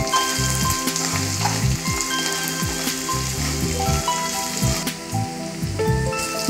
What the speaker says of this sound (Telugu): అల్లం వెల్లుల్లి పేస్ట్ వేసుకొని అది వేగాక కొద్దిగా పసుపు కూడా వేసుకొని వేగనివ్వాలి